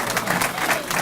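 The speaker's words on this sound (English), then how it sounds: "Let's give her a round of applause." A crowd at a campaign kickoff claps for candidate Ann Grossi, a short, full burst of close applause with a few individual claps standing out.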